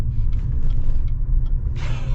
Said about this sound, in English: And we'll go through the dirt a little bit.